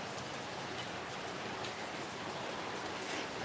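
Rain falls steadily on a wet terrace during a sunshower, a dense even patter of drops with no distinct gaps, soft and continuous throughout without voices.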